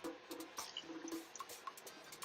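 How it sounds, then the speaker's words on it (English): A cup of cold water goes into a pan of cooking plantains for Dominican mangu, giving soft splashing and trickling with scattered drips and bubbling, quiet and close. "Once you add the cold water, it's going to cook for a little bit more"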